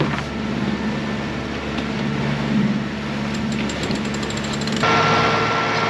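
Yacht diesel engine motoring astern away from a mooring buoy on a chilly morning, a steady rhythmic thrumming throughout with wind noise, and the engine note shifting louder near the end.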